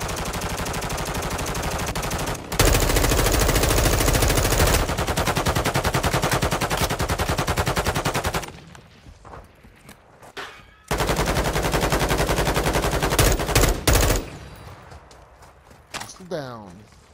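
Rapid gunfire in the video game Call of Duty DMZ, loud sustained bursts of automatic shots with short pauses between volleys, mixed with game sounds and occasional voices.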